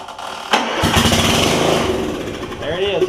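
A 9 hp Kawasaki engine on a John Deere RX75 riding mower, running with no exhaust, sputters and catches, then roars loudly and raggedly at close range, with a person talking over the noise near the end.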